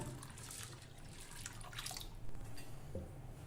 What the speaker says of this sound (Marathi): यामध्ये आवश्यकतेनुसार पाणी घालूया